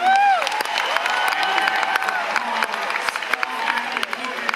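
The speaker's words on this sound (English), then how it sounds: "So let us have a huge round of applause." Panel audience at a San Diego Comic-Con event breaks into a big round of applause and cheering, loud and sustained with scattered whoops, sounding close to the microphone.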